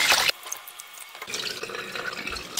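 Basmati rice being rinsed in water, a short splash of pouring and swishing at the start, a brief lull, then softer continuous trickling and sloshing of water over the grains.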